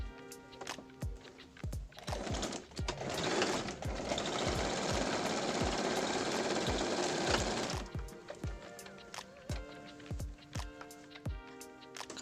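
An electric sewing machine stitches the lining of a garment, running steadily in one long burst for several seconds, with short start-stop bursts and light handling clicks before and after.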